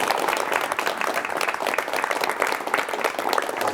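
Applause from a studio audience welcoming a guest scientist onto a 1986 Korean television talk show, a dense, even wash of clapping that runs on alone for several seconds.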